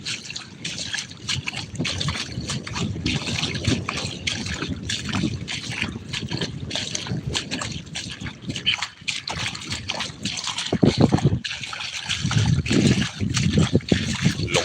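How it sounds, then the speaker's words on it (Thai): Fast water rushing and trickling at the seaside, a continuous churning wash with sharper splashes, loud and close, with a few faint voices in the background. "มาน้ำลงเชี่ยวเลยนะครับ"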